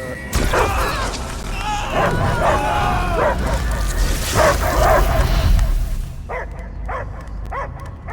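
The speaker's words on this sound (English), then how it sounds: "I hear only barking." A dog barks and yips repeatedly over a dense, loud soundscape with rumbling effects in the video game Marvel's Guardians of the Galaxy, ending in a few sharper, isolated barks.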